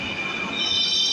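A crowded metro train at Uttara Center screeches with a sustained high-pitched squeal of wheels on rail, loud and continuous over a low rumble.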